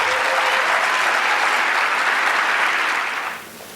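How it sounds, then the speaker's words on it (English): Warm, dense applause from a graduation luncheon audience honoring parents, a steady wash of many hands clapping that holds strong for about three seconds before tapering off. "give them as well a very warm applause"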